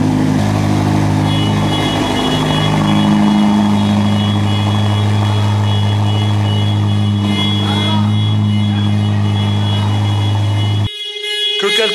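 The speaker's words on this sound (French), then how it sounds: "quand le V8 biturbo se met en marche, frérot, tu comprends quand même qu'il y a quelque chose d'assez insolent qui se passe" A 1,000-horsepower car with a biturbo V8 in a showroom drones loudly and steadily at close range with a deep, even engine hum, then cuts off abruptly near the end.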